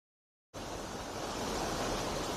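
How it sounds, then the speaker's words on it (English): Floodwater after heavy rain flows across a roadway, a steady loud rushing wash that starts abruptly after brief silence and continues without talk. "water was flowing across the roadway"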